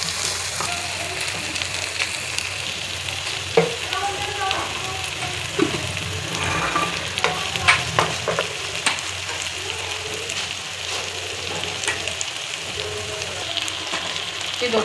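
Ginger garlic paste and onion frying in oil crackle and sizzle continuously and fairly loud, with spoon stirs and scrapes scattered throughout.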